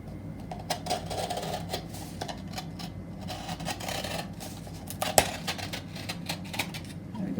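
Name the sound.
knife cutting out a notebook base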